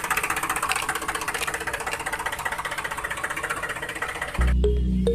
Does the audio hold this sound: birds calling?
no